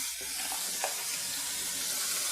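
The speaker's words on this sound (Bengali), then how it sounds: "এবার আমি তরবুজের খোসাটা যে কুটা বাটা করে রেখেছিলাম তরবুজের খোসাটা এর মধ্যে দিয়ে দিলাম" Ground watermelon rind goes into a spice paste frying in a pan, meant for a prawn dish, giving a soft, even sizzle throughout with a slight stir near the start.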